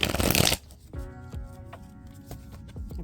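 Tarot cards shuffled in a quick riffle of crisp flutters for about half a second, followed by a softer ringing tone with light taps and faint card handling underneath.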